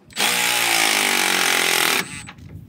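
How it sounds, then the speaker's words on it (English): Milwaukee electric self-ratcheting torque wrench tightening bolts during a Hellwig Big Wig sway bar install on a Triumph Tiger, one loud, steady motor whine of about two seconds close to the mic, then a quick wind-down. "I've got this handy dandy electric self-ratcheting torque wrench, so it helps me make quick work of the install."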